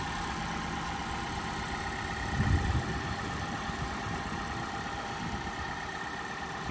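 A turbocharged car engine in near-new condition runs at a vehicle auction, giving a steady, close, broadband hum with a brief louder surge partway through and no talking.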